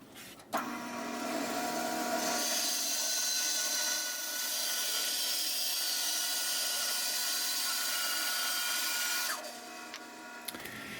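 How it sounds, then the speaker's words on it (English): A bandsaw cutting a piece of figured wood, the motor starting with a hum and the blade whining steadily through the cut for about nine seconds, loud and close, then winding down, with no talking. "let's bring it over to the bandsaw and we'll cut this out."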